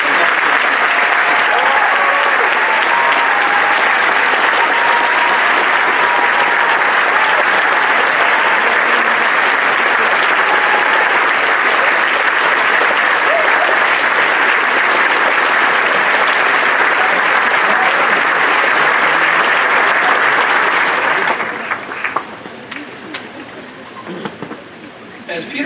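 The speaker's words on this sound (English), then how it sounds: "join me in giving him a round of applause" Sustained, loud applause from a large audience at a 2018 Northfield Mount Hermon commencement ceremony, a dense steady roar of clapping lasting about twenty seconds before tapering off abruptly near the end.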